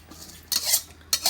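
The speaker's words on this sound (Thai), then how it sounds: "ตั้งกระทะครับ" A frying pan is set onto a stove in a rural Thai home kitchen, giving two close, sharp metallic clanks about half a second apart over quiet background.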